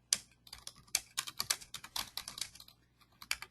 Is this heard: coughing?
no